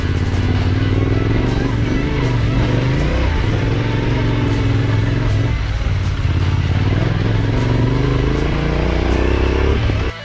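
A Land Rover approaching on an icy, snowy mountain road, heard as a steady, loud vehicle engine drone throughout, mixed with a close motorcycle engine running continuously.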